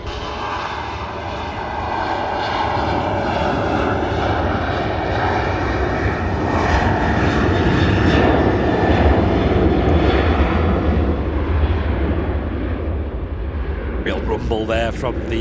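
A Ryanair jet takes off from runway 05 left at Manchester Airport with a loud rolling roar that swells to a peak around the middle and slowly recedes, and a voice breaks in near the end.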